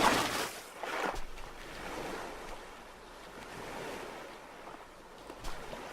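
Open ocean waves in Stranded Deep, a steady wash of surf and rolling water with wind noise, continuous and moderately loud with a few swelling crests and no voices.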